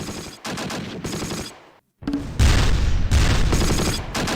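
Mortar fire in the Close Combat World War II game, at Mortain in 1944: repeated bursts of loud, rapid gunfire-like explosions in clusters, a brief silent gap, then a denser, louder barrage to the end.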